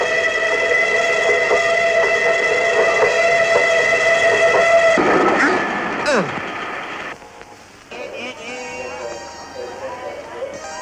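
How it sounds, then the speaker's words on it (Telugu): A train rumbles in with a long sustained horn blast, the clatter of rail cars fading as it slows, ending quieter with some background noise. "ట్రైన్ కరెక్ట్ టైంకి వచ్చేసిందే"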